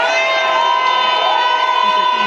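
Dense crowd at Maurice Kamto's return rally at the MRC headquarters in Deido, Cameroon, cheering and shouting in a loud continuous roar with whistles and high voices, close and unbroken.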